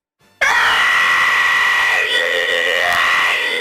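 A cartoon character screams loudly and continuously, a sustained high-pitched shriek that begins abruptly after a brief quiet moment and holds steady for several seconds with slight wavering.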